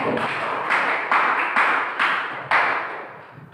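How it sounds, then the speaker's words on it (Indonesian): Students in a classroom clap together in a few rhythmic bursts of group applause, close and moderately loud, fading out at the end. "Silakan tepuk tangan dulu untuk temannya."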